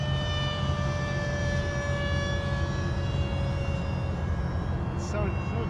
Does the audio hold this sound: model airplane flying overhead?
yes